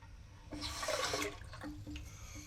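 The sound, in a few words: running water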